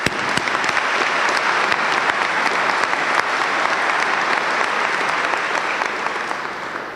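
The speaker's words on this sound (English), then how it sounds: "I'd like to do a round of applause for everyone in here today" A large crowd at a coach's retirement celebration applauds steadily for several seconds, dense clapping at an even level that tapers slightly toward the end.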